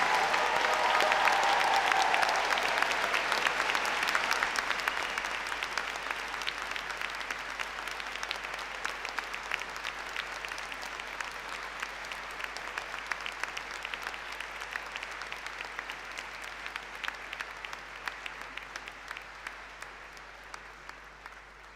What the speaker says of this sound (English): So class of 2024, you all deserve a huge round of applause.